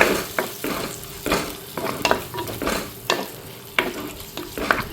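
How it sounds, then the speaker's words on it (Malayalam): Tomatoes being sautéed with onions and green chillies in a pan, with a soft sizzle under repeated close, brisk scraping stirs of a spoon, no voices. "ഇനി ഇതിലേക്ക് തക്കാളി ഇട്ട് കൊടുക്കാം. ഇതൊന്ന് വഴറ്റിയെടുക്കാം."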